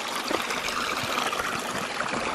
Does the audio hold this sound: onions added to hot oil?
no